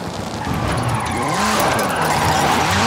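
Ford Focus RS RX Gymkhana 10 car with a 2-litre turbo engine and all-wheel drive drifting in Forza Horizon 5, tires squealing over a loud, wavering engine note that rises and falls steadily, close and continuous.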